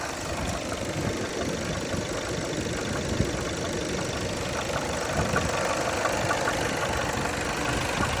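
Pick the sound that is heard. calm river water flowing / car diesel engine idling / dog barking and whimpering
car diesel engine idling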